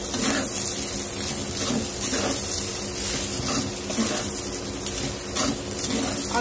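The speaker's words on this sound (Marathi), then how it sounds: "आता यात मी शेजवान चटणी घालतेय आणि त्यालाही आपण छान मिक्स करून घेऊया" Spiced rice frying in a pan as Schezwan chutney is stirred in, a continuous sizzle with repeated scraping strokes of the spoon, close and steady.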